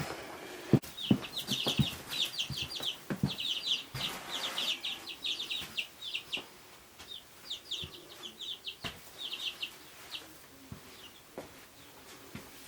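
Baby chicks cheeping in short, rapid bursts of high peeps near a homemade brooder with a heat lamp, along with scattered knocks and handling bumps close by.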